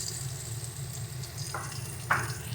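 Ground spices with turmeric, cumin, coriander and dry chilli sizzling and frying in a pan for koi fish curry, a steady close hiss with faint stirring scrapes.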